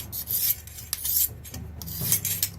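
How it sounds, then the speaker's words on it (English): Blade being sharpened on a coarse sharpening stone, a few quick raspy strokes back and forth, close and moderately quiet with short pauses between passes. "you can go from sharpening with a coarse thing, a coarse wet bit, to even a whetstone"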